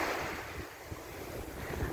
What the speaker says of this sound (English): Light waves, beautiful sunshine,